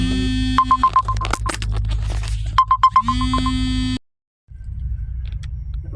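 Phone ringtone sounding in two bursts of rapid repeated electronic pips inside a running vehicle, loud over a steady low engine rumble, then a brief silence before the cab drone returns.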